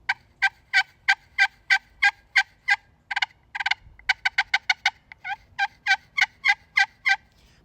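Turtle shell turkey call with a 3.5-inch slate surface glued on and no soundboard, played as a steady run of sharp, evenly spaced yelps with a brief faster cluster midway, close and clear with no talking.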